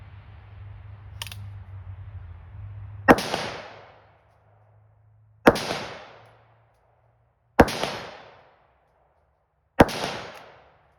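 Four sharp rifle shots from a Palmetto State Armory AK556, each followed by a ringing hit on a steel target at 100 yards, spaced about two seconds apart outdoors, with a low engine-like hum fading out before the first shot.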